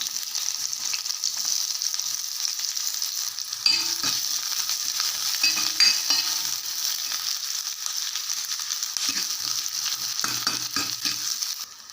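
Onions sizzle and fry in hot oil in an iron pan, a steady crackling hiss with occasional scraping and stirring thuds from a utensil.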